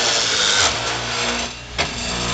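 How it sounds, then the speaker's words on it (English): Latch drill running on a door-hanging machine, a steady loud whirring drone with a couple of brief surges as the bit cuts into the door. "And there's our latch drill."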